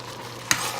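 Okra frying in African palm oil, a soft steady sizzle with one brief scrape of stirring midway through, close and quiet.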